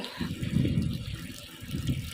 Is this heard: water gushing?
yes